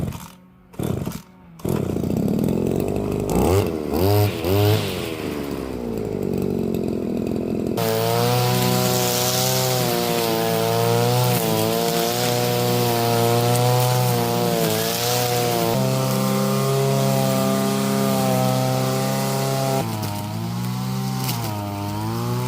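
A petrol brush cutter set down and left running, its engine droning loud and steady with a rough harmonic whine, after a few sputtering revs and bumps at the start.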